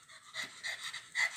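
An old dog pants in short breathy bursts close by, a few quick rasping exhales heard alone.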